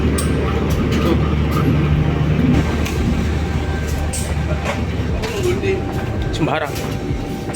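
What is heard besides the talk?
KRL Commuter Line train riding behind the locomotive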